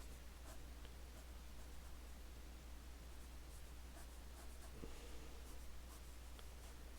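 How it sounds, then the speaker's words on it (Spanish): Ballpoint pen scratching across paper while sketching a perspective drawing, a faint steady rustling scrawl lasting throughout over a constant low hum, with no voices. "Voy a volver a utilizar mi bolígrafo."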